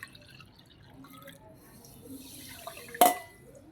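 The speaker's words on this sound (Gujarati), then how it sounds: "જે બાઉલે ખાંડ લીધી એટલું 3 ગણું પાણી મૂકશું આમાં" Water pouring into a bowl of sugar to make rasgulla syrup: a short, bright splash near the end, preceded by quiet background noise.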